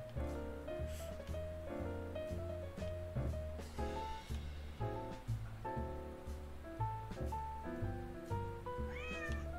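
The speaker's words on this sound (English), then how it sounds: "Oh, there's a kitty." A cat meows repeatedly in the game Hidden Cats in New York, heard over a bouncy, looping musical background.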